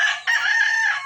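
A rooster's crow rings out close and loud, breaking briefly before holding a long, strained note, heard on its own without voices.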